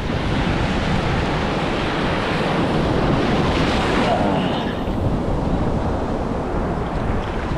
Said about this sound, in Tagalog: Hoy, may alon.